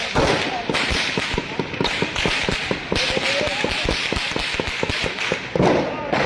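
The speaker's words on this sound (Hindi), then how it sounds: "इस वक्त शदीद तरीन फायरिंग हो रही है।" Heavy gunfire in Pakistan-occupied Kashmir: rapid, sharp cracks and thuds in dense irregular bursts, loud and close, continuing without letup with a voice speaking faintly underneath.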